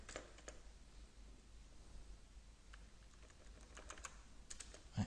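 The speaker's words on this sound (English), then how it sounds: "I am typing." Typing on a computer keyboard while writing a document in Microsoft Word: a steady stream of quiet, close key clicks with a few louder taps and a low background hum.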